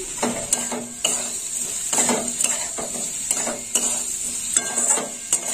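Ivy gourd and potatoes fry in a pan while a utensil stirs them, giving a steady close sizzle broken by repeated scraping clacks against the metal every second or so, with no voices.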